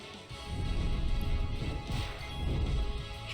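A grenade blast in the Final Fantasy X HD Remaster battle: a loud, dense boom-and-crash of noise sustained for about three seconds, with no voices over it.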